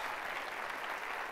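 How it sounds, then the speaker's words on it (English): Audience at a software company product keynote gives a short, steady round of applause, even and continuous from a crowd at moderate distance. "quick round of applause?"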